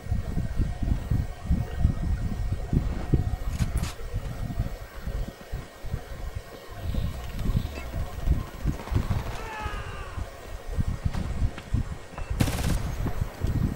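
Shotgun blasts in the video game Homefront, a few loud broadband bursts over a dense, noisy in-game battle mix with constant rumble and gunfire.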